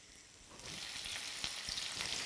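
Sardines laid into hot frying oil over a stove flame, a crackling sizzle that swells after a quiet start and keeps popping and spitting steadily close by, with no talk.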